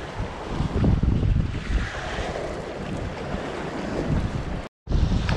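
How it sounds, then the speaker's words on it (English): Strong wind gusts buffet the microphone with a rushing, roaring noise, near and loud, briefly cutting out before resuming, on a riverbank while fishing. "It's so windy"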